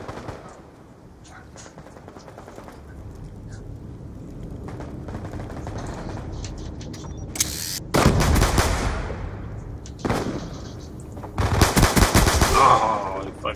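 Pistol gunfire in the video game Call of Duty Black Ops 2 rings out in loud rapid bursts, several volleys of shots over a busy in-game background.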